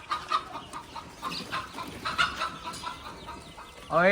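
Several chickens cluck in short, irregular bursts nearby in a goat-farm shed, with a louder squawk at the very end.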